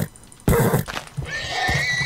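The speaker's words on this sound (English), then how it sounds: "Oh, the noise is horrible when you kill horses." A horse in a video game lets out a loud, close, shrill whinny as it is killed, following a brief quieter moment.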